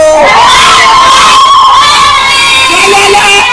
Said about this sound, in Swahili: Nasema tupige kelele ya pili kwa wachezaji wetu.